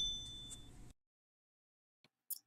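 A bright notification bell chime rings briefly at the end after a stretch of silence, preceded by a short burst of background sound that cuts off abruptly.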